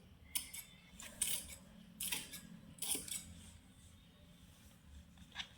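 Scissors snip through saree fabric while a pleated gown is cut at a tailoring table, with four or five crisp, close cuts spaced about a second apart and quiet pauses in between.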